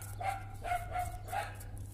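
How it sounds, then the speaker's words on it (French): Small pet dogs barking indoors, several sharp yaps in an uneven series of about four, moderately close, over a steady low hum with no one talking. "Je m'excuse pour mes toutous,"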